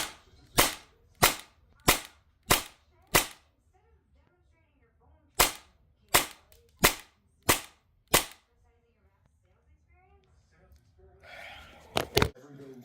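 Airsoft Hi-Capa pistol with a CL Project piston, firing at around 80 PSI: two strings of five sharp, evenly spaced shots, then a softer pause and two final shots, close and loud.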